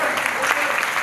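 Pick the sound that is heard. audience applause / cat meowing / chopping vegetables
audience applause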